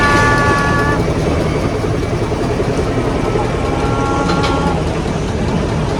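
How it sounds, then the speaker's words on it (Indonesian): A steady low rumble of a steam tourist train idling nearby, with faint tonal hums and a busy station-like background, no clear talking. "Kereta mau naik ini kereta wisata."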